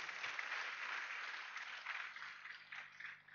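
An audience applauds at a business gathering, a steady wash of clapping that holds for a few seconds and then fades slightly.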